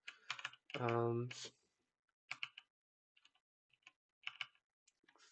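Fingers type on a computer keyboard in quick, close clicking bursts separated by short pauses, with a brief spoken word near the start.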